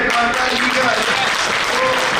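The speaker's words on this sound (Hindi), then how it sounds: "तो जोरदार तालियां" A hall full of network marketers bursts into loud, close applause, a dense wash of claps with a few brief tonal voices or whistles threaded through it.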